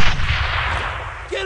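Sustained, dense gunfire in a World War 2 squad shooter game, a loud, continuous roar of shots with no clear gaps between them.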